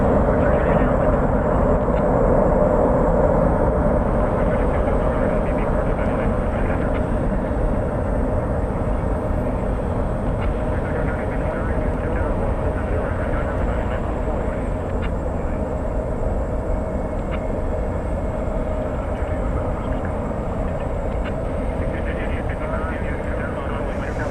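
Cargolux cargo plane arrived from Anchorage at DFW Airport at night, a steady loud engine roar that fades slightly, with a faint high whine throughout.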